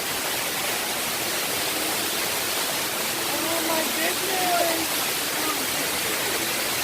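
Rushing water cascading down a water wall fountain outdoors, a loud steady broadband hiss filling the scene, with a person briefly speaking and faint voices underneath.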